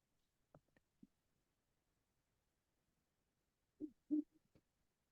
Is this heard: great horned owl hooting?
yes